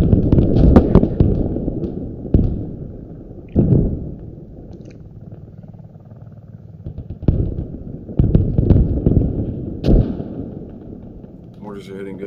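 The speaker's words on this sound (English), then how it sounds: "Mortars are hitting good." Mortar shells exploding in the military shooter game Squad, several heavy booming blasts landing in irregular bursts, loud and close, with rumbling tails and some chatter in between.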